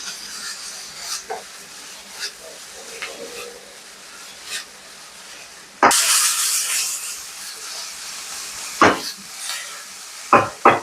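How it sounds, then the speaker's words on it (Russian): Salted onion frying in a pan for vegetable caviar gives a soft, steady sizzle under scraping and stirring noises, with a sudden louder burst of sizzling partway through and a few sharp utensil clacks near the end. "Давайте мы присолим лук, он так быстрее отдаст влагу и начнет жариться."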